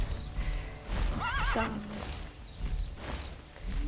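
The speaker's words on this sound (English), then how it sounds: "It's a pink and white flying horse, or rather white flying feathered horse with pink armor, pink and gold armor." A white feathered flying horse mount in pink and gold armor in the TERA video game gives one wavering neigh midway, with clip-clopping hooves and ambient game sounds around it.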